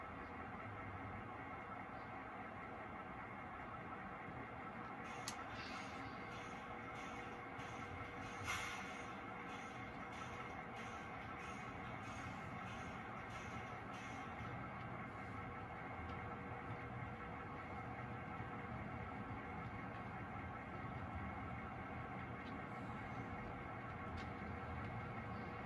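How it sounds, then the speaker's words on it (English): A Lewis and Lower train leaves the Brunswick rail yard, its diesel engine rumbling steadily while the cars roll. A few sharp metallic clanks and ticks come through near the middle, and the rolling noise stays constant, fairly distant. "Now the Lewis and Lower train is going to leave the yard and head back to Lewis and Lower."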